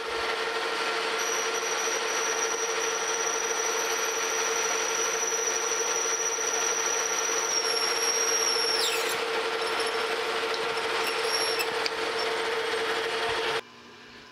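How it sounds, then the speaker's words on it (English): A power drill with a 3/8-inch bit whines steadily at high speed for several seconds, its pitch dipping as the bit bites, then cuts off abruptly. "I'm just gonna go all the way through with a 3 8 inch drill bit just to get a hole started"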